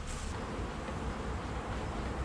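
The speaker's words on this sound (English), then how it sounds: "The ladies are busy today." Honey bees hum at an open hive during an inspection on a bright, sunny spring day, a dense, steady buzzing swarm sound that fills the whole clip, close and even with no voices.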